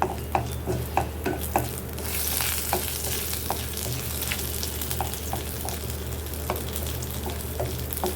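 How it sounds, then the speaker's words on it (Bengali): Dried red chillies crackle and sizzle as they fry in oil in a pan, a steady close frying hiss broken by sharp pops and occasional stirring clinks, with no talking. "এই শুকনা মরিচটাকে একটু ভেজে নিই"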